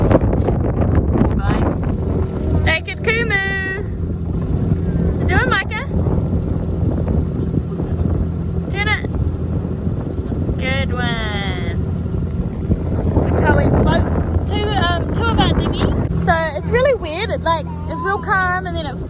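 Strong gusting wind buffets a sailboat in New Zealand, roaring steadily across the microphone while people talk over it throughout.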